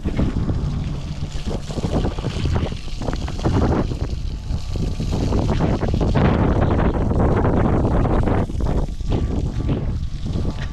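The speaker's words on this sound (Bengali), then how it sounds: "একটু বাতাস হইলেই প্রচুর পরিমাণে বালু ওঠে।" Strong wind roars steadily across the open sandy grounds of an artificial river project at a riverside park in Goalundo, a loud, continuous buffeting rush that gusts and swells without pause throughout.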